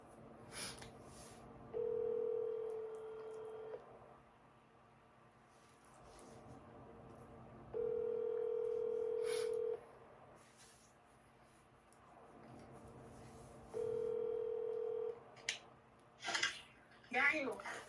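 A telephone on speakerphone places a call: three steady ringback tones, each about two seconds long, repeat at even intervals in a quiet room, and a brief clatter of handling noise follows at the end.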